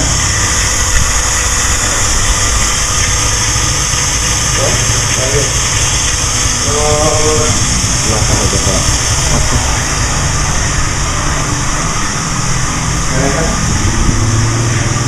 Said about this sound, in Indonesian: Ini pompa airnya.